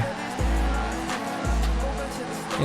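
Car drifting through a corner in the FR Legends video game, a steady engine drone rising and dropping in pitch through gear-like cycles, with tire noise underneath and a voice talking over it.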